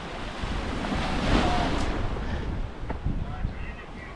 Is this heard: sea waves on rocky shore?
yes